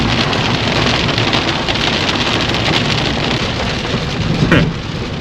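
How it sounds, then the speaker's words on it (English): Steady rain falls over an open farm field just as a shower begins, a dense continuous hiss with a brief louder swell near the end and no voices. "it started raining"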